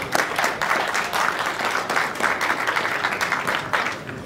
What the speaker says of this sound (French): J'aimerais bien qu'on applaudisse pour vous parce que c'est énorme.